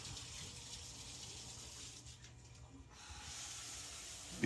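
Water sprays steadily from a shower head just cleared of a clog, a constant hissing stream with good pressure, fairly quiet and alone with a brief dip midway and a knock at the very end.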